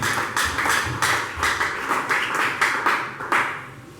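A church congregation claps in acclamation of the Lord Jesus, producing a steady, roughly even run of crisp hand claps from a crowd, moderately loud with no talk over it.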